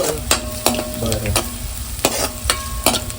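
Onion fries in a pan with a loud, continuous sizzle, punctuated by several sharp scraping stirs of a utensil against the pan, close up.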